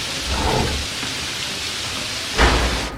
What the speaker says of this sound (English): It's really raining out here.